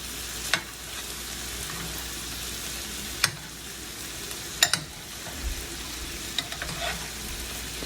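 Steak sizzling in a pan while being basted, a steady quiet frying crackle with occasional sharp spatters and pops from spooned fat.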